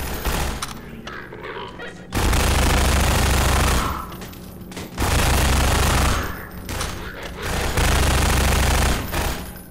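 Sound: Combine gunfire in the video game Half-Life 2

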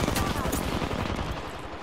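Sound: enemy team gunfire in a battle royale video game

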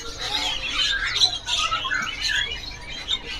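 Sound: cak ijo bird (male) calling

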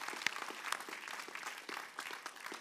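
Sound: church congregation applause

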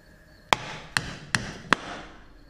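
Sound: hammer tapping differential cover off its dowels

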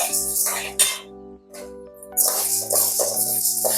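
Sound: lentils rattling while being dry-roasted and stirred in a pan

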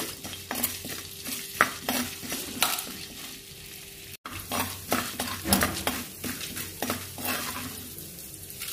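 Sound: cumin and lentils frying while being stirred

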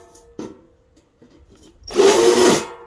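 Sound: countersink tool removing loose wood splinters

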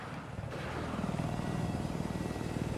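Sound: transport helicopter flying in a video game

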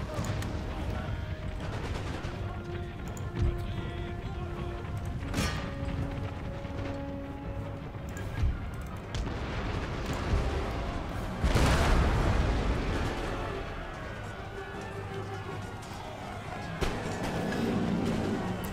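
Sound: canister shot artillery fire in Empire Total War video game

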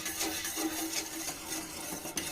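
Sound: stirring milk mixture with sugar for wheat flour drink

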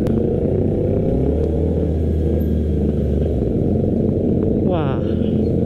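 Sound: Honda CB650R motorcycle exhaust sound

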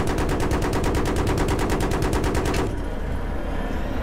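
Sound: gunfire in the video game Battlefield 3

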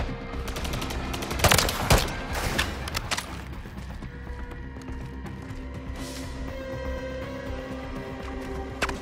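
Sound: gunfire in the video game Call of Duty

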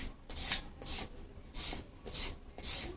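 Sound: papaya being scraped with a papaya shredder

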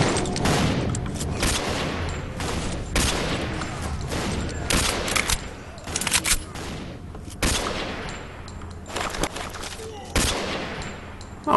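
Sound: gunfire shooting zombies in video game S.T.A.L.K.E.R. Call of Pripyat

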